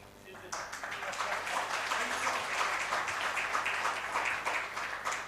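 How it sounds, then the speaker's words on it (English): An audience at a live housing event breaks into applause after a brief quiet start, the clapping holding at a moderate, even level to the end. "Claps."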